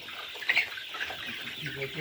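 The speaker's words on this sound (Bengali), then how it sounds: "এখানে কতগুলো মুরগি আছে বাচ্চা আছে" A flock of roughly seven hundred chickens and chicks on a small poultry farm gives soft clucks and peeping, with one brighter chirp early on, under ongoing conversation nearby.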